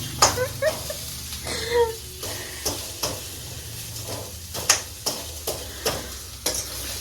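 Maggi noodles fry with onions in a pan under a soft sizzle, cut by several sharp scrapes and knocks from stirring. A voice is heard briefly.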